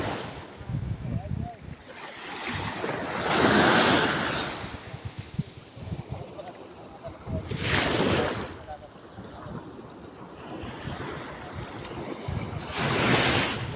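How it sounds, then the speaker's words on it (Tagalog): Sea waves surge onto a beach in three loud broad swells, roughly every four to five seconds, under steady gusting wind buffeting the microphone. "Yan ang dagat ngayon."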